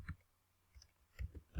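Several separate keystrokes on a computer keyboard, close and quiet, in small irregular clusters with gaps of silence between them.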